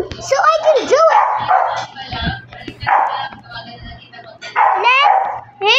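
A dog barking in the background indoors, several sharp yips and barks in irregular bursts, moderately loud, mixed with a person talking and whining sounds between them.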